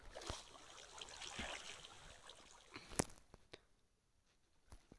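Water draining in the block-building game Minecraft: a steady flowing, trickling rush that tapers off after a couple of seconds, followed by a few sharp game clicks against near silence.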